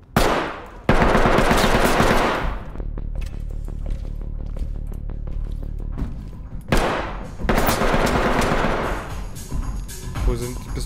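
Bursts of automatic gunfire and single shots in the tactical shooter video game Ready or Not, loud and close, with dense rapid volleys separated by a brief quieter stretch and voices talking in between.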